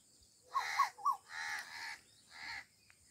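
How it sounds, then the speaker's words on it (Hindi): An Asian koel calling in a village setting, several loud, clear repeated whistled notes close by, with brief pauses between them and no talk. "तो वह सामने बैठी है कोयल, लगी हुई है बोलन"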